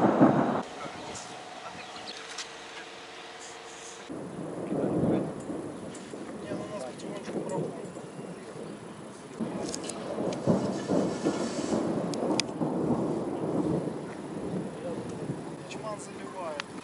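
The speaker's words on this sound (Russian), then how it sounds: "Стена дождя на нас идет." Dense, steady rain roars outdoors with gusty wind noise, while someone talks over it intermittently.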